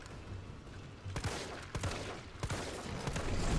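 Gunfire in Resident Evil 3 Remake sounds as a few quiet, separate bursts of shots against an enemy, set over a low, rumbling game ambience.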